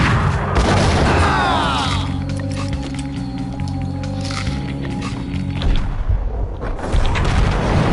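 A grenade goes off in Max Payne with a loud, deep boom that rolls into a long rumbling tail under the game's sustained ambient tones.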